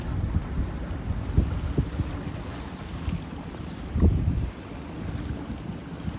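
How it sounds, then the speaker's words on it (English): Strong wind buffets the microphone in rumbling gusts aboard a boat during a gale warning, with a few louder bursts from 30-knot gusts over a constant blustery roar outdoors. "Winds are high."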